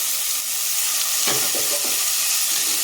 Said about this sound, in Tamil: தக்காளி நல்லா மசிகிற அளவுக்கு வதங்கட்டும்